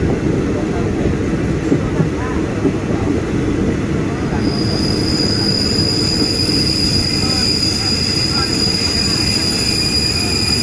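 A train rolls into a station platform with a steady low rumble and rattle, a high squeal of wheels or brakes rising partway through and holding.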